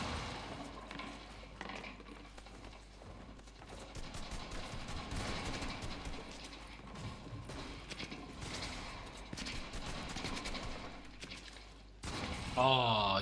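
Gunfire in the Fortnite video game, a steady stream of rapid shots and impacts running throughout under a dense game mix, with speech present and a brief burst of different game sounds near the end.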